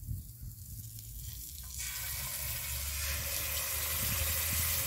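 Chile, onion and a little sauce hit a hot pan and fry, the quiet start swelling into a loud, steady, close sizzle that continues to the end.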